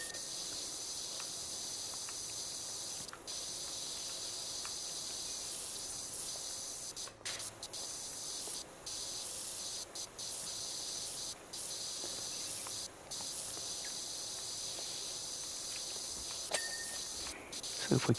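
Steady high-pitched hiss of a pressure washer spraying in PowerWash Simulator 2, running continuously throughout with brief pauses and a voice talking faintly underneath.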